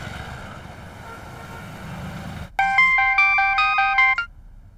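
A telephone ringtone in a Hindi TV serial plays a loud, melodic electronic chime for under two seconds, with several quick repeated note patterns. It follows a stretch of low background noise.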